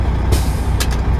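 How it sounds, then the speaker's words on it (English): A semi truck parked at a loading dock is shut off, its air brakes releasing a sharp hiss, then two quicker hissing bursts over a low, steady rumble. "Shut the truck off"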